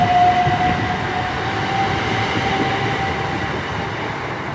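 Southern Class 377 electric multiple unit at Milton Keynes Central, a steady loud rumble of the train with a faint tonal whine, continuous throughout with no talk.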